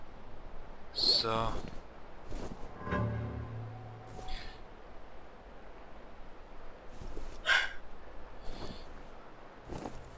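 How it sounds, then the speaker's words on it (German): A dog in the horror shooter F.E.A.R. lets out a couple of short, strained, harmonic yelps and a low whine, moderately loud over a dim, eerie game ambience. "Ja Leute, das war ein Hund. Ihr habt richtig gehört."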